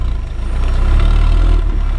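A car passes close by on a village road, its engine rumble swelling loudly to a deep, heavy peak mid-pass and then easing slightly, with no voices heard.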